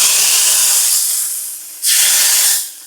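Fish sizzling in hot oil in a home kitchen pan, a steady loud hissing fry that fades slightly, then bursts back up sharply as the fish settles in and tapers off again, with no talk.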